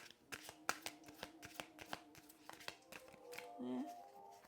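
Playing cards are shuffled and dealt in a steady series of crisp riffling snaps and slaps, close and fairly quiet, with a faint murmur of background voice near the end.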